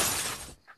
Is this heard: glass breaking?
yes